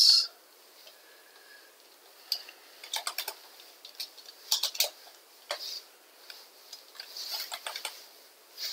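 A computer keyboard clatters with quiet, close keystrokes in irregular bursts and short pauses, with no talking.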